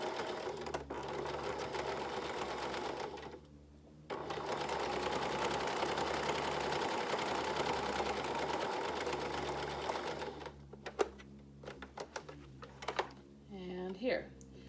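A sewing machine stitches a fabric face mask along its short seven-inch edge in long, steady runs broken by a brief pause. Fabric handling and a voice come in near the end.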